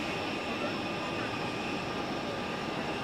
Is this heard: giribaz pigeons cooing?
no